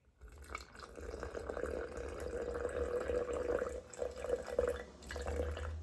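Liquid being poured into a container on a scale for a sourdough starter, a steady close trickle and splash that runs for several seconds with a brief break near the end.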